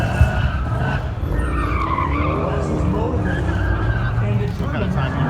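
LS-swapped Porsche at a car show autocross sliding through turns, with continuous tire squeal and skidding over engine roar heard from a distance amid crowd noise, while people talk nearby.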